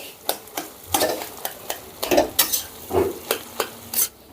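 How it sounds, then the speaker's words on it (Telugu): Eggs being fried and mashed in a pan for egg fried rice, with a loud, close series of roughly a dozen sharp utensil scrapes and taps against the pan over a light sizzle, with no talking. "ఎగ్స్ని ఇలాగా బాగా ఫ్రై చేసుకోవాలండి"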